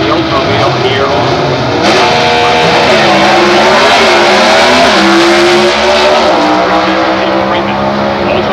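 Drag race cars with a small block Oldsmobile engine launch in competition eliminator racing, giving a loud, sustained, raspy engine roar that fills the whole stretch with shifting revs. A crowd or announcer mix sits faintly underneath.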